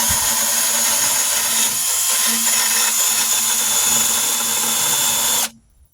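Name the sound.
drill with wire brush cleaning rust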